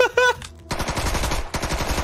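Rapid gunfire bursts from the video game South Park: The Stick of Truth, a short synthetic tone followed by two loud clattering volleys separated by a brief gap.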